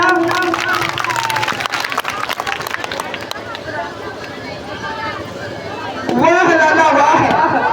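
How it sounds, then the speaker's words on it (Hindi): An audience at a stage play claps in a scattered, fluttering burst, mixed with crowd chatter and voices speaking over it, before a louder spoken passage takes over. "बोलो अगर अच्छा लग रहा है तो ताली बजाओ"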